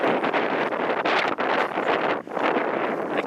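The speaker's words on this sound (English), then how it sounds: "And it's windy." Strong wind gusts buffet the microphone in loud, rough bursts with brief dips between them.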